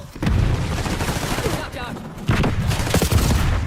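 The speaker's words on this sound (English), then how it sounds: "Why are there guys in the spawn area shooting me from the side?" Enemy gunfire in a multiplayer shooter game breaks out in dense, continuous bursts that are loud and close, with heavier volleys toward the end.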